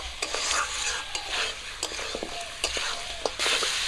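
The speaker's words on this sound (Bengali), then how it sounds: "মশলা আর মাংস আবারও ভালো করে ভাজা করে নেব" Mutton and spices, including Kashmiri chili powder, sizzle in a pan while a utensil stirs and scrapes repeatedly, producing irregular clanks over a continuous frying hiss.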